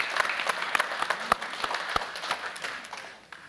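An audience at a Supreme Court panel event applauds in response to a poll, a thin, scattered patter of individual claps with a few sharp close hand-claps, tapering off over a few seconds.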